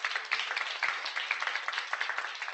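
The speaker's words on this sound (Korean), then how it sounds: "한번 박수 부탁드립니다" An audience at a corporate seminar claps together in a brief, dense round of applause, with quick repeated hand claps sounding at a moderate distance and no voices over them.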